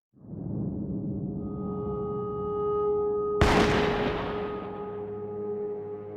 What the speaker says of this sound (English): Those shots just now were 22 caliber.